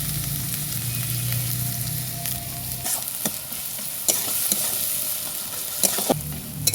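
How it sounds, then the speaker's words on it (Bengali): Onions fry in a pan with green chili, ginger, garlic and salt, giving a steady sizzle broken by repeated scraping strokes from stirring. "পেঁয়াজটা একটু ভাজা ভাজা হয়েছে, এখন মাছটা দিব।"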